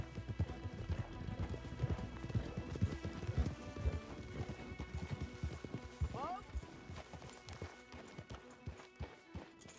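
Horses' hooves in Red Dead Redemption 2 clip-clop in steady rhythm at close range, joined by a brief whinny midway.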